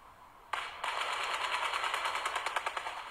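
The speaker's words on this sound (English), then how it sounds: "it's like the gunshots now are really, really fucking close." Near Mandalay Bay in Las Vegas, a sudden burst of rapid, loud automatic gunfire starts after a short pause and rattles on continuously, sounding very close.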